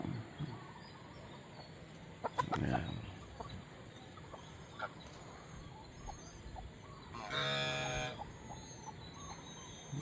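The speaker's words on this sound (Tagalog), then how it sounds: "Nagsasagutan yung gansa at saka yung pabo natin guys." A goose honks and a turkey gobbles back and forth at a distance on a farm over a steady outdoor background, with a brief spoken word.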